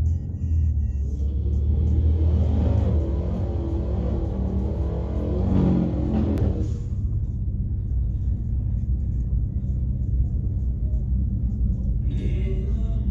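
Engines rumble at a drag strip as cars line up for repeat runs, a steady low idle with a swell of revving midway, then settling to a deep drone, with faint talk early on.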